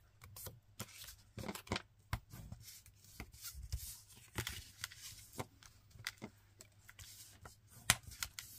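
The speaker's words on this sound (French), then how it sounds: "On va venir marquer nos plis." Paper folds for a flip book are creased by hand, a quiet series of irregular dry rustles, crisp swipes and soft taps, close up with faint background hum.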